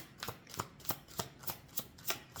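A deck of oracle cards being handled and shuffled, with a steady run of eight crisp riffling bursts at an even rhythm, close and fairly quiet, with no talk.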